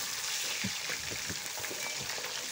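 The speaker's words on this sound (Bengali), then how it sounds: "মাছ ভাজা দেখেছেন কি সুন্দর ব্রাউনি ফ্লেভার এসছে" Hilsa fish pieces frying in hot oil, a soft, close crackle and sizzle with small popping bursts, fairly quiet and steady throughout.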